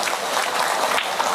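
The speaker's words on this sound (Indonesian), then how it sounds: "Tepuk tangan sik." Audience applause at an Indonesian comedic religious sermon on marriage advice, a dense steady wash of many hands clapping throughout a brief stretch, with no voices over it.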